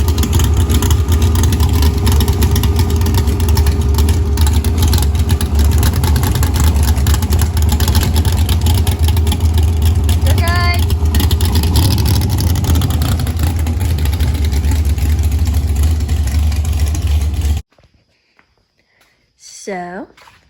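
A car engine roars loudly and steadily at launch for about seventeen seconds while it breaks up and runs rough, then cuts off abruptly into near silence.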